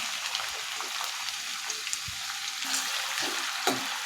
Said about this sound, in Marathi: तेल चांगलं गरम झालं की इथे मी एक कांदा कट करून घेतला आहे तो याच्यामध्ये टाकते